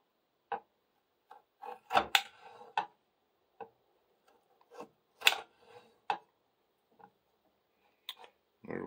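A knife slices a potato into half-inch cubes on a cutting board, giving sharp irregular taps and chops spaced apart, close and fairly quiet, with brief pauses between cuts.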